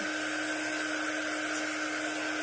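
A hair dryer blows steadily on a freshly painted butterfly backer coated in off-white paint, a close, constant whooshing hum with no break and no talking.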